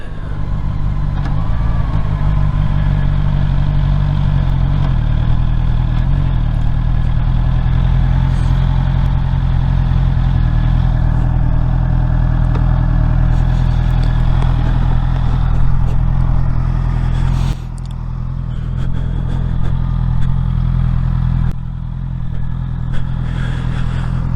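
A 2024 Honda CBR650R E-Clutch motorcycle pulls into a parking lot, its engine a continuous loud low rumble with steady wind and road noise throughout, dropping slightly in level near the end.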